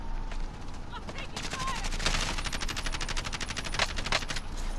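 Video game gunfire aimed at an enemy, a rapid automatic burst of closely spaced shots rising in the second half, with quiet talk mixed in.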